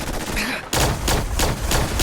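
A Fallout 4 sentry bot fires its machine gun in a loud, continuous burst, fast rattling shots under a brief pause then resuming at full force right up close.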